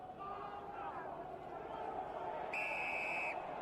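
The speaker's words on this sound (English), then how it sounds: "Whistle goes, and it is a penalty this time to London Irish." A referee's whistle blows for a penalty during a rugby union match between Harlequins and London Irish, a short shrill blast heard late, under commentary and a murmuring stadium crowd.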